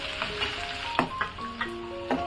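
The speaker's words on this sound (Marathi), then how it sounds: "मी टाकते तेलामध्ये। त्याच्यानंतर मी आहे ना बारीक चिरून घेतलेला कांदा टाकणार आहे," Finely chopped onion and whole spices frying in hot oil in a home kitchen, a steady close sizzle with a few sharp crackles and utensil clinks over a faint background tone.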